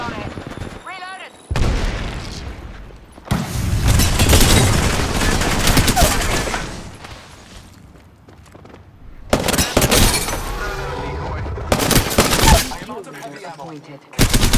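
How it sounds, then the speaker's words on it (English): Bursts of automatic gunfire and incoming shots crackle loudly in an online shooter game, coming in dense volleys with short gaps between them, under occasional game voice lines. "Recharging the shield, Guzzy. Being shot at"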